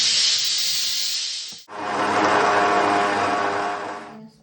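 Water splashed into a hot pan bursts into loud, close hissing steam, one continuous rush that briefly dips before surging again and cutting off abruptly.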